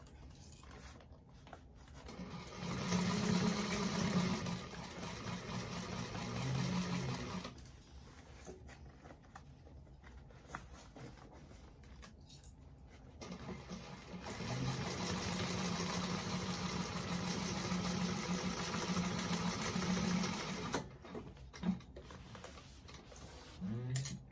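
A sewing machine stitches along the edge of a handmade fabric bag, its motor humming in two sustained runs separated by a quieter pause, steady and close with no talking.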